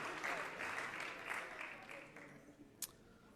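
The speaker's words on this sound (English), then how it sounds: "Please give her a round of applause" Applause for a donor at an ISKCON New York fundraiser, fairly faint clapping from the room mixed with a voice speaking, fading toward the end with one sharp clap near the close.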